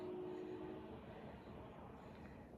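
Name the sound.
distant train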